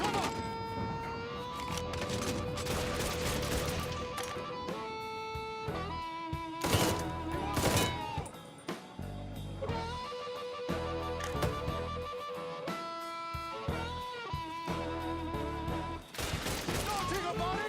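A gunfire shootout in Mafia III: Definitive Edition, with bursts of shots and sharp impacts cutting through constant music-like tonal layers and shouting voices across the whole scene.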